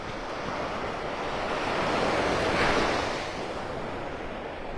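Surf washes onto the private beach at Pelican Bay, North Naples, a steady broadband rush swelling to a gentle peak and easing back, with light wind noise and no talk.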